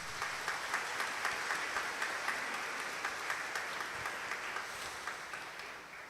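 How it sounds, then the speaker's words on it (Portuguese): Steady applause from a church congregation at Mass fills the space, a dense wash of many hands clapping with faint rhythmic accents, continuous and even throughout. "dando a Ele uma salva de palmas"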